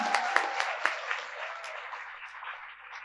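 An audience claps steadily at a children's poetry recital in a hall, a dense continuous patter of many hands that tapers slightly toward the end.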